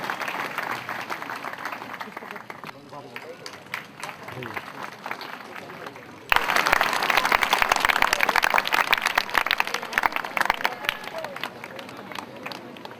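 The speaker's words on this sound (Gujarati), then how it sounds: "જે તાળીઓના ગગડાટથી આપણે વધાવીશું" Audience at a village award ceremony breaking into loud sustained applause, scattered clapping at first then a dense roar of hands that continues to the end, with some voices mixed in.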